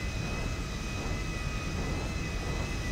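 A small plane taxies in GTA V, its engine a steady, loud, continuous drone with a thin whine on top. It holds constant throughout with no voices.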